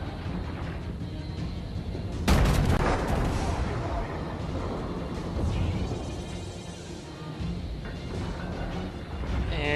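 Heavy naval guns boom in a loud salvo in World of Warships, a broad blast followed by rumbling battle noise, with someone talking over the action.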